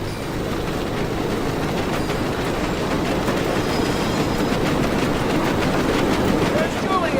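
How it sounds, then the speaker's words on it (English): A train rolls past in the Medal of Honor Above and Beyond video game, a continuous rumbling clatter of wheels on track with rhythmic clicks, steady and fairly loud throughout. "I can see the train up ahead."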